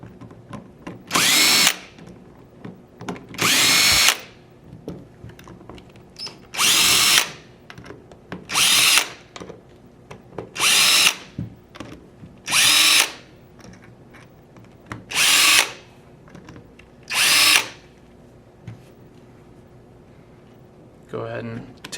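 A power drill removes the bolts of a paintball marker in bursts, with about nine loud, short whirs separated by pauses while someone talks in between.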